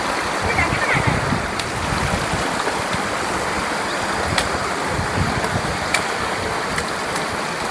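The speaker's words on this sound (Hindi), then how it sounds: "हेऊ नाला वाली नदी नीचे है, क्लीन पानी है" A clean mountain river at Heu Nala in Sarthal Valley rushes below a crossing of two girders: a continuous broad watery roar with occasional splashes, steady and moderately loud throughout.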